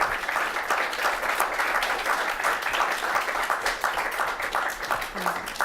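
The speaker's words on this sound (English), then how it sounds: "Quick round of applause for everybody participating" Audience applauding participants at a student jobs debate forum, steady dense clapping throughout, fairly close and even in loudness, without talk.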